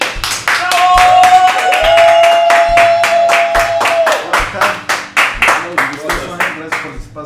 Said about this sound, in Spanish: Les llevamos con un fuerte aplauso al baterista de Emparoxismo, Uli.